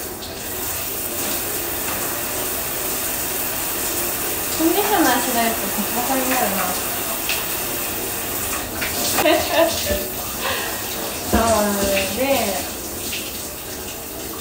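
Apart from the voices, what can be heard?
hand shower running water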